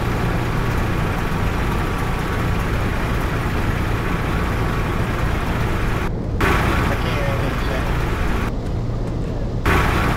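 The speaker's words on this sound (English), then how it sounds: "Yeah, the truck is fucking loud." A truck engine in the video game DayZ drones loudly and continuously, a heavy, steady rumble that fills the whole stretch with barely any change in level.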